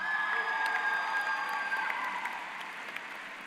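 Graduates at a high school graduation ceremony receive a sustained round of applause from the crowd, dense and steady, tapering slightly toward the end.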